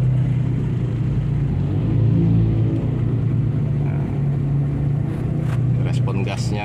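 A Toyota Kijang diesel engine fitted with an automatic clutch conversion rumbles nearby, its low drone swelling briefly as the throttle is blipped before settling back, with faint ambient noise near the end.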